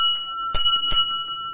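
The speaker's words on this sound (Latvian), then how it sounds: "Šeit savukārt ir pavisam maziņš Ganešas templītis ar visu zvanu iekšā." A small bell inside a little Ganesha shrine in an Indian temple setting, struck a few times, giving bright ringing strikes that overlap and decay into a sustained metallic hum.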